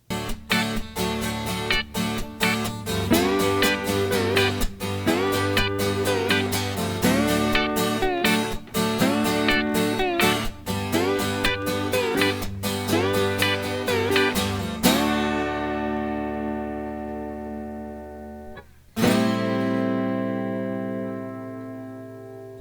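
Gliding slide guitar notes ring over strummed acoustic chords in a steady rhythm, then the strumming stops and a few sustained slide notes linger alone.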